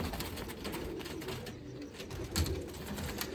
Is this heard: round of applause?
no